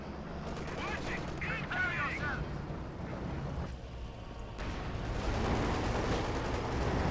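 Tank cannon fire and gunshots in Company of Heroes 2 boom and rattle over dense continuous battle noise, with a commentator's voice talking over the action.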